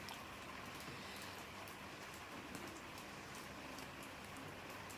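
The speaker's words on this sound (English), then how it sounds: "can probably hear the rain outside" Steady rain falling outside in a garden, a soft continuous patter and hiss heard from a distance, quiet and unbroken, with no voices.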